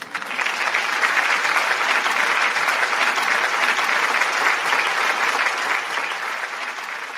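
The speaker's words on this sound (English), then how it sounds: "Give yourself a round of applause" Audience round of applause after a lively evening event, a continuous wash of many hands clapping at a steady, full volume that tapers slightly near the end, with no speech over it.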